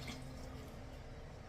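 Water filling a cooking pot of pasta, fettuccine, as it is poured in to cover the contents, a steady close rushing wash with a faint dripping edge, no voices over it.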